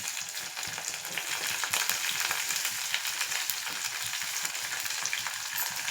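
Onion, green chili, curry leaves and tomato fry in hot oil, giving a steady close sizzle with occasional stirring scrapes, no voices.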